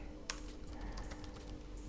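Typing on a Chromebook keyboard, a quick run of light key clicks with one sharper tap near the start, close and fairly quiet, no talk.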